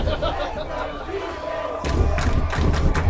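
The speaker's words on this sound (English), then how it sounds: "Crowd getting loud." Football crowd at a high school game roars during a 4th down play, a steady loud rumble of voices that swells sharply partway through with bursts of cheering.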